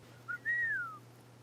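A person whistles a short rising chirp followed by a longer sliding note that falls away, heard clearly and alone over a low steady hum.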